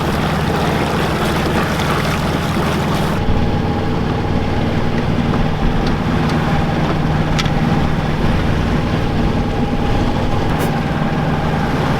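The auxiliary engine of a Dana 24 sailboat runs under sail off the Southern California coast, a steady loud drone and chug throughout, with wind and water noise layered over it and no talk.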